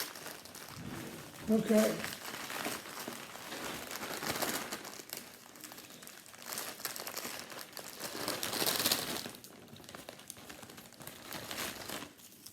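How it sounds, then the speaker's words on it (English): Digestive biscuits being tipped into a Ziploc bag make crinkling plastic rustles and soft clatter, loudest in a short burst early and again later, close up, while people talk and laugh over it. "you're going to tip them into a Ziploc bag"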